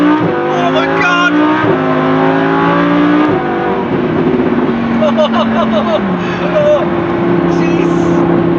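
A Lamborghini Huracan engine revs hard through rising gear pulls and shifts, loud and close inside the cabin, with a few sharp crackles near the end while people talk over it.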